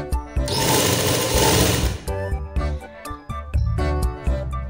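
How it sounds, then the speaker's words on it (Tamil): A sewing machine stitches a frock gown around stone embellishments, first in a loud continuous run of about two seconds, then in short choppy bursts of rapid needle clatter. "நான் அந்த ஸ்டோனில் ஏற்றாமல் ஊசியை லைட்டாக தூக்கிட்டு தையல் போடுற பாருங்கள்"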